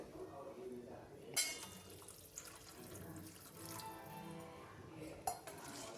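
Water is added and stirred into a spoonful of sambar powder for a quick sambar. A soft, continuous trickling and splashing runs throughout, with a couple of small clinks, under steady talking.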